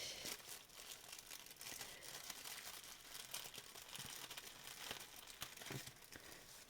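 A small paper-wrapped package is opened by hand, its wrapping crinkling and rustling steadily and close up, with a few sharper crackles and a soft hint of tearing along the way.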